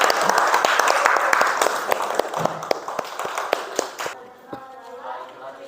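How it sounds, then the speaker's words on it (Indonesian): Classroom applause from students after a presentation, a dense patter of claps for about four seconds with a few sharper individual claps standing out, then thinning and fading quickly into quieter room noise. "Tepuk tangan."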